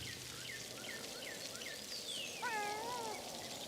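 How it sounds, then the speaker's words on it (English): A cat in Pentiment meows, several soft chirping calls followed by a longer, clearer wavering meow, moderately faint over steady ambient noise. "Pet the cat."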